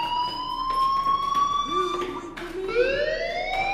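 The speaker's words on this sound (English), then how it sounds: "Hey, do you hear that fire alarm?" A fire alarm in the video game Life is Strange rings steadily with a high, continuous electronic tone that rises and shifts pitch, a bright siren-like wail under faint background ambience.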